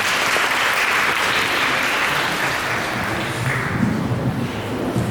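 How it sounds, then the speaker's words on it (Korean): Steady applause from a wedding audience for the choir, a dense continuous clatter of clapping hands filling the room without letup. "우리 축가팀을 향해 다시 한번 박수로."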